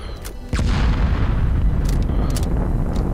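Heavy explosions rumble in the online shooter Fallout 76, a sharp blast followed by a sustained loud roaring boom with scattered pops and crackles, dense and close.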